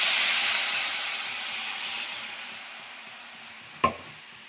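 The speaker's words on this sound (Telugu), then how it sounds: "ఇప్పుడు ఇది కొంచెం నూనెలో ఫ్రై కావాలి." Bitter gourd masala curry fries in oil with a steady, fairly loud sizzle that slowly fades, broken near the end by a single sharp clink.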